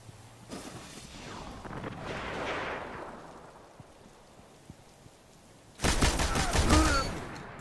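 Heavy weapon fire in the shooter game Destiny: a dense, loud rattling volley bursts in near the end after a stretch of softer rumbling and scattered impacts, with some talk faintly present.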